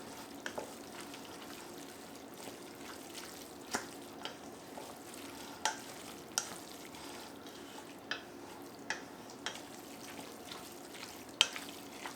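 A spoon stirs and mixes a stuffed pepper filling in a pan, with soft scraping and sizzling and sharp clacks of the utensil against the dish every second or so, with no voices.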